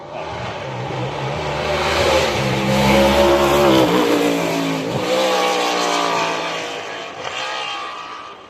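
Mercedes car driving and drifting on the Goodwood Festival of Speed hillclimb, engine revving up and easing off in swells, loud and fairly close, with a sharp transient midway.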